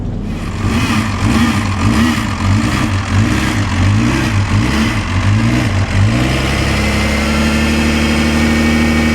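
Classic car engine idling at the Mille Miglia in morning sun, a loud, close, lumpy pulsing idle with a brief rev rhythm before settling into a steady low drone.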